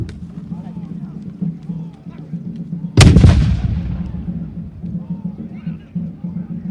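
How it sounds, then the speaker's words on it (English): A cannon fires in a video game battle between French and Prussian troops at a fort: one loud, booming blast whose rumble fades over a few seconds, set against a constant battle-noise bed and a narrator's voice. "But the French have one last shot with their cannon"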